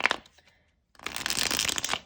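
A deck of tarot cards being shuffled close up, a brief flick, a short pause, then a dense riffling burst of cards lasting about a second, alone.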